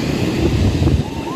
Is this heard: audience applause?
no